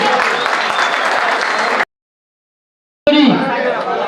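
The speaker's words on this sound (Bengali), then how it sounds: "পাঁচজনকে জোরে একটু হাততালি দিন সবাই জোরে" A crowd at a large prize distribution ceremony in Kolkata applauds loudly and densely. The clapping cuts out abruptly for about a second, then resumes just as strongly.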